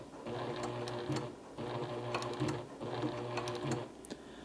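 A Juki Haruka TL-18QVP sewing machine stitches a patch in three steady bursts of rapid mechanical whirring and needle clatter, each about a second long, with brief pauses between them. No voices.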